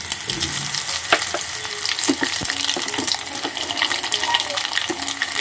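Carom seeds fry in oil being cooked down for a homemade knee-pain oil, giving a close, steady bubbling sizzle with sharp crackles and occasional utensil taps, and light speech now and then.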